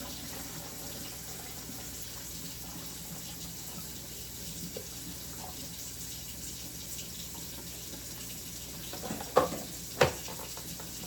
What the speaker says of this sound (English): I'm going to pour water in my drip coffee maker.